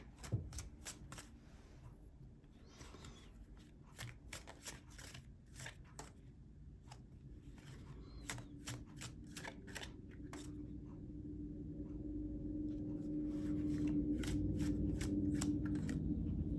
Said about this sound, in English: we're going to pull one more as an advice card from Spirit